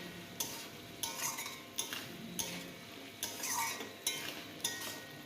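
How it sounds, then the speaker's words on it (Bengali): A spoon stirs spice paste frying with a splash of water in a pan for a Bengali rui fish curry with gathi kochu, making quiet, regular scraping strokes over a soft sizzle. "যাতে মশলাটা পুড়ে না যায় সেই জন্য আমি কিছুটা জল এর মধ্যে দিয়ে নেড়ে চেড়ে নিয়ে আমি দেখো মশলা ভেজে নিচ্ছি"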